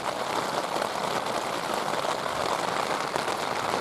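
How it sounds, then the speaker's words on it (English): Steady rain at night patters on a surface in a dense, even hiss, close and moderately loud, with no other sounds. "that is the sound of rain in the middle of the night"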